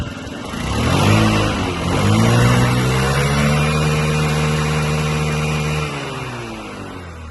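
A Yamaha Jog SA36 fuel-injected scooter engine runs up close and loud, revving up twice, holding a steady buzzing drone for a few seconds, then dropping back to idle, with no talking.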